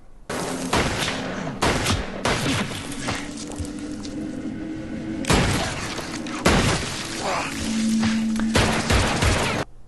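Rapid gunfire from a revolver and a shotgun in a televised crime drama fight scene, a loud fusillade of sharp close shots in irregular bursts with brief gaps, one after another across the whole stretch.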